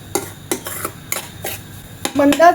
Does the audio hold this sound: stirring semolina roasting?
yes